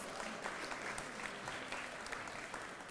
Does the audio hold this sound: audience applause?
yes